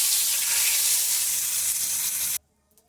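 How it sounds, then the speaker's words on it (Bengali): Bay leaves temper in hot oil in a wok, giving a loud, close, continuous sizzle that cuts off abruptly near the end into near silence. "প্রথমে কড়াতে একটু তেল দিয়ে দিলাম, আর ফোড়ন হিসাবে দেব তেজপাতা"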